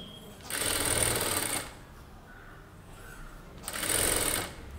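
A sewing machine stitches along a neckline edge in two short bursts of rapid mechanical whirring, each about a second long and close by, with a quiet pause between them.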